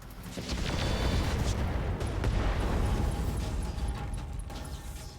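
Weapons fire pounds a Gauss emplacement turret in the RogueTech mech game, a dense, sustained rumble of booms and blasts lasting the whole stretch at moderate volume with no voices.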